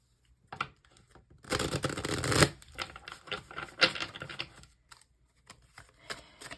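Tarot cards are shuffled in several quick riffling bursts, crisp papery flutters and taps close by, separated by brief pauses.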